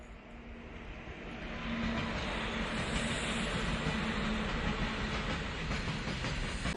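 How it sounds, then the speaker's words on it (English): A train rumbles and clatters steadily, building slightly in loudness as it gets moving, with a continuous low roar and hiss and no voices. "Train pulled out of the station."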